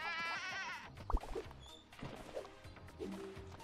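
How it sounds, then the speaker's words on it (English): Several sheep bleats in the farm-animal moving game Moving Out, spread across a few seconds with thumps and crashes of objects between them, no voices. "The sheep is resisting me at every turn."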